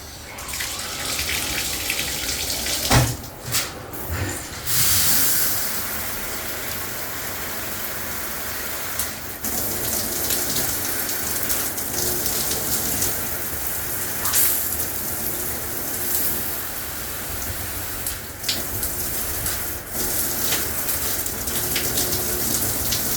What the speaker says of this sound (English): I'll turn it on so that you can see the different like flow that it has.